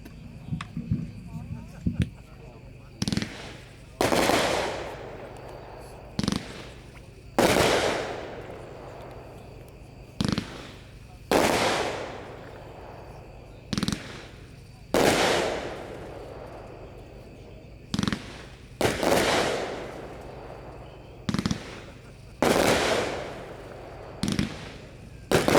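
A Mega Banger 25-shot consumer firework cake fires a long sequence of loud, sharp bangs at uneven intervals, each followed by a crackling decay, outdoors at a fireworks demo.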